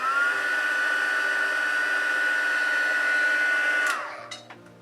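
A heat tool heat-setting paint on a leather crease blows in a steady, loud whining roar for about four seconds, then cuts off and winds down, followed by a few faint clicks.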